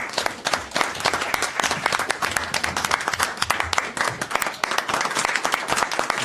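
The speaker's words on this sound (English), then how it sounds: "Give her a round of applause." Sustained applause from an audience at a town council meeting honoring a council employee, dense steady clapping throughout with no speech.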